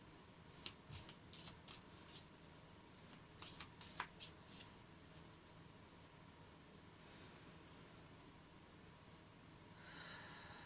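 Quick bursts of tarot cards being shuffled in two clusters of riffles close by, crisp and papery, followed by a quiet room with faint rustling.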